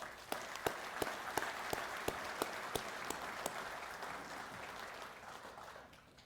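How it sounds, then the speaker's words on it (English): Audience applause in a hall at a department convention session: steady, moderately loud clapping from a sizable crowd with a few distinct close claps on top, gradually thinning out. "Please give them a round of applause."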